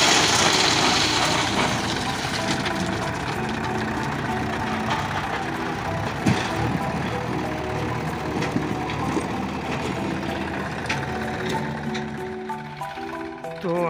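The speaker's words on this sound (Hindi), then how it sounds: "यहाँ पर देखिए गिट्टक किस तरह से जो कि ट्रैक्टर से लेकर जाया जा रहा है" A tractor hauls gravel at a railway construction site, its engine rumbling steadily and loudly throughout with broadband mechanical noise and occasional clanks, close by.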